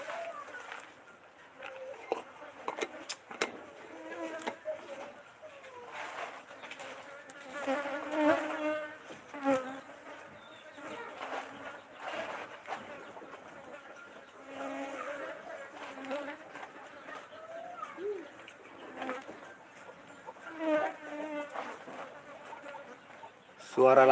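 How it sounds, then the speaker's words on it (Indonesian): A swarm of flies buzzes close by at a dried-fish work site, their whines rising and falling continuously over more than twenty seconds, with occasional voices and clucking chickens in the background. "Suara lalat, iya banyak lalat ini."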